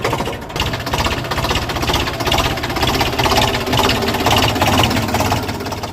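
A diesel tractor engine, just fully serviced, runs close and loud, with a steady rapid knocking throb that never lets up.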